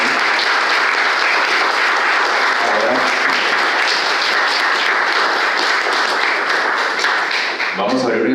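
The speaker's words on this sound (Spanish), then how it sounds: "quiero pedir un aplauso a esta mesa" An audience at an education gathering gives a panel sustained, loud applause that fills the whole stretch and fades near the end as a voice starts speaking.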